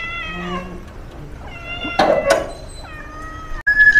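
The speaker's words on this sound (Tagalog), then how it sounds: "Kasi yung pusang to, ulit. Hindi makapasok." A cat meows again and again outside a door it cannot get through, with several drawn-out, plaintive cries, close and fairly loud. A brief knock or clatter breaks in partway through.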